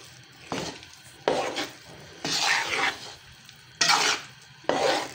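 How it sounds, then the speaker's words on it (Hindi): Besan is roasted in oil in a pan and stirred in several separate bursts. Each burst brings a scraping, shuffling rush with a light sizzle, and there are quiet pauses between them, close by and with no talk. "देखें, अब हम इसको भून रहे हैं।"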